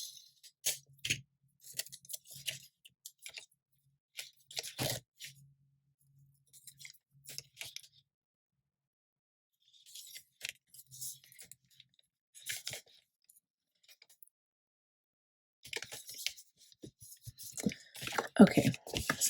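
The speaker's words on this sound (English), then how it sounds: "So I'll just tape that one too" Tape pulled and pressed onto items during a planner subscription box unboxing: intermittent crinkly tearing and rubbing bursts with soft taps, close and fairly quiet, separated by stretches of near silence and a louder rustle at the end.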